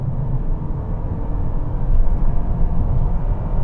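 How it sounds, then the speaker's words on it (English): A 2020 Toyota Camry engine drones steadily under acceleration through its CVT gearbox, a continuous low rumble that holds at an even pitch and swells slightly midway, heard from inside the cabin with no talking. "you get that droning noise from the engine because of the way the CVT gearbox keeps the revs at a constant rate"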